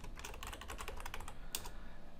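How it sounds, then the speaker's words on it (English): Quick, soft keystrokes on a computer keyboard, a close run of taps with a louder single press near the end, heard without talk. "I'm going to hit I to go into insert mode and type the following"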